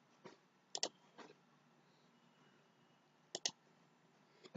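A computer mouse clicks crisply up close in a quiet room, with two quick double-clicks and a couple of single clicks spread across a few seconds.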